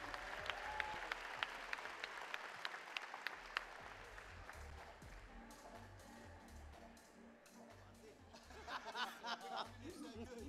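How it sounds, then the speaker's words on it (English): An audience claps for a chairman being welcomed at a dance competition final. Sharp individual claps ring out early, then they blend into broader applause with faint chatter and laughter underneath. "Sous vos applaudissements, s'il vous plaît, Monsieur Vijay Ramdeni"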